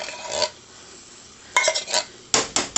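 Canned apple pie filling is scraped out of the can with a utensil, several short metallic scrapes and clinks in separate bursts, with quiet gaps between them.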